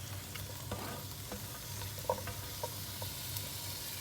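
A faint stirring of a brinjal and rice mix in a pan with coconut oil, low gentle frying sizzle under sparse soft scrapes and taps of a spoon.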